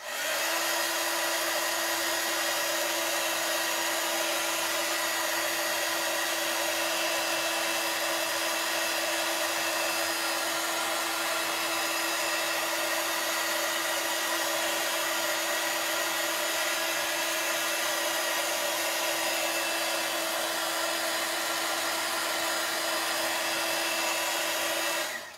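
A hand dryer blows steadily on a decorated glass jar, giving a constant loud whirring hiss with a fixed tone that holds unbroken for about twenty-five seconds, with no talking.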